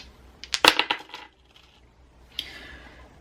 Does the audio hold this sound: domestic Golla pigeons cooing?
no